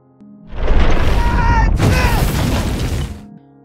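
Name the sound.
explosion sound effect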